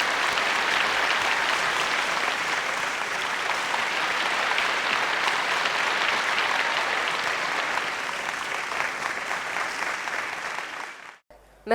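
An audience at a Bhojpuri film awards show applauds loudly for about eleven seconds, a dense, steady roar of clapping that fades out at the end.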